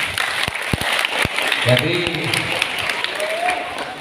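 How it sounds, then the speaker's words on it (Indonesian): Audience applause at a traffic-safety talk given by a police officer, starting with a few sharp separate claps and then a steady wash of clapping from a crowd, while a voice speaks over it. "Saya ulangi, tepuk tangan."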